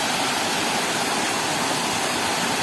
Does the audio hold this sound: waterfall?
yes